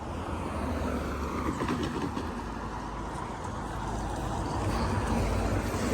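An Avanti West Coast train passes the Noose Lane level crossing, making a loud, steady, broadband rush and rumble that continues without a break.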